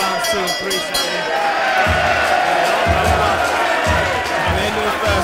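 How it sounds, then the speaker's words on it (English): A crowd cheers and shouts at a white collar boxing fight in London, a loud, continuous roar with rhythmic thumps and bursts of whooping, with a commentator's voice running over it. "I think you can hear the crowd really getting behind both fighters."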